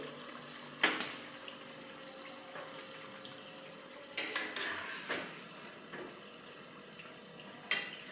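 Fried onion and potato bhaji are lifted onto a plate, heard as a few scattered clinks and scrapes of utensil on dish over faint kitchen background noise.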